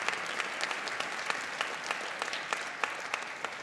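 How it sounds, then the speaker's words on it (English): Applause from a school winter concert audience, a steady wash of clapping with individual sharp claps popping out, moderately distant and continuous with no talking over it. "Give them a round of applause"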